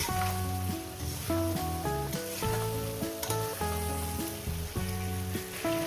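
Masoor lentil fritters and potatoes fry in oil in a pan, giving a constant crackling sizzle under loud, rhythmic background music, with no talking.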